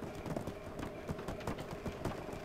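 Horse hooves clip-clop in the video game Black Desert, a quiet, steady rhythm of soft thuds over a muffled background.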